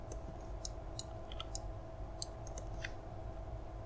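Quiet, crisp computer mouse clicks, about a dozen scattered irregularly over a steady low hum, with no talk.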